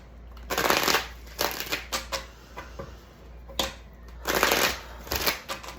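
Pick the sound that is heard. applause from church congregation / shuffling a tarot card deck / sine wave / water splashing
shuffling a tarot card deck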